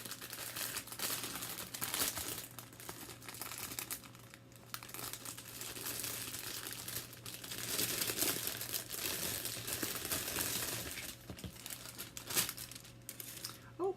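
A small plastic bag is opened, giving a steady, crinkly crumpling and tearing rustle that runs close and continuous throughout, with brief louder bursts and no talking.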